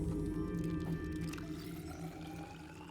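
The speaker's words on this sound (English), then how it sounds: "I hear water being poured." Water pours steadily in the underwater video game Subnautica, a continuous wet gurgling over a low game ambience with no talking.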